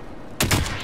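A short, sharp burst of gunfire from the Call of Duty Warzone video game starts suddenly partway through and rings briefly, loud and close.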